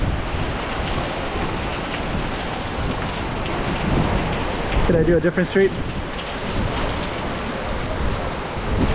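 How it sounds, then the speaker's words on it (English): Heavy rain pours onto a street in Macau, a loud, dense, unbroken hiss close by, with a person briefly speaking partway through under the downpour. "It's really raining hard."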